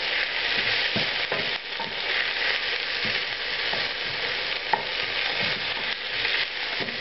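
Cumin seeds crackle and sizzle in hot ghee in a pan, a dense continuous frying hiss dotted with small pops and occasional stirring scrapes, close and steady with no talking.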